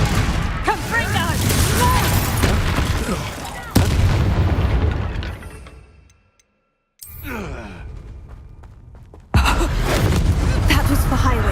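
Hogwarts Legacy Confringo fire spell blasts, loud booming bursts with sharp onsets amid dense battle noise and gasping voices, broken by a brief silent gap before another blast resumes.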